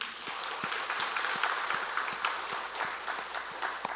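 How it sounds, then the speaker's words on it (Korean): A church congregation applauds teachers and students during a Sunday worship service, with dense, continuous clapping from many hands at an even level, with some individual claps standing out near the front. "우리 수고한 우리 교사들 또 학생들 하나님 앞에 영광의 박수 올릴까요?"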